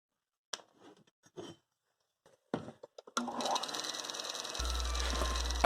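A belt grinder grinds down a leaf spring cleaver blade in a workshop: a few quiet taps, then the machine starts with a steady, harsh abrasive whine and hum that carries to the end.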